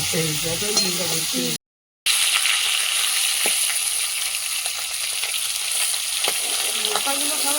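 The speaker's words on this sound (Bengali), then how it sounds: "ভাজা কমপ্লিট হলো" Fish sizzles loudly in hot oil, a constant close frying hiss that runs throughout with a short cut of silence early on, and faint talk beneath it at the start.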